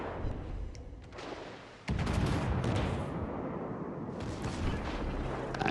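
Secondary guns of the battleship Kongo firing in World of Warships: Legends, a steady barrage of heavy booming shots and rumbling blasts that thickens after the first two seconds into a dense, continuous roar.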